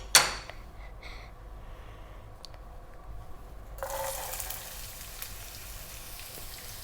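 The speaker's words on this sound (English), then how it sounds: "so I have 3 tablespoons of olive oil. I'm gonna put my onion in." Chopped onion drops into three tablespoons of hot olive oil in a pan, starting a steady close sizzle that swells into a louder, dense hiss partway through.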